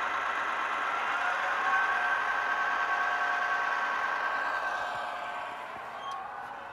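A diesel locomotive idles during rail yard switching, a steady, moderately loud drone with a faint high whine, continuous and unbroken with no talk.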